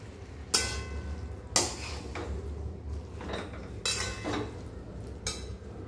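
Boiled peas for ghugni are tipped into a cooking pan and stirred, with several sharp metallic clinks of a spoon against the pan over a low background hum.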